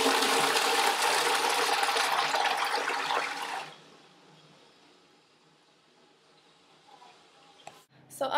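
An Australian water-saving toilet with half and full flush buttons flushes in a loud rushing burst for a few seconds, then fades to a quiet trickle of refilling water.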